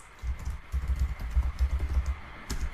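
Keys clatter on a computer keyboard as a command is typed into a terminal, a quick, close run of uneven taps with short pauses, then a firmer keystroke near the end.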